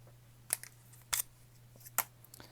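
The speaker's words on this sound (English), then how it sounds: "I'm going to actually cut it." Scissors snip through thick journal paper in a quiet room: three separate crisp cuts spaced under a second apart, each a short sharp rasp over a steady low hum.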